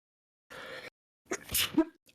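A single close sneeze, preceded by a short breathy intake, in an otherwise quiet room.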